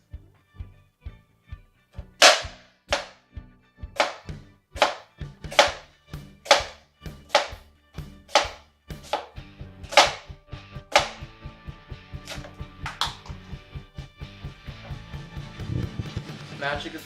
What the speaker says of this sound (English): our onions are nice and sliced